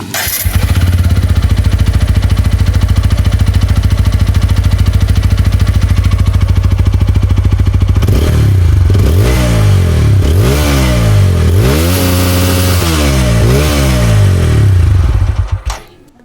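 A TVS Apache RTR 160 4V motorcycle with a single-barrel exhaust idles loudly and evenly up close, then is revved several times in rising and falling bursts before cutting off at the end.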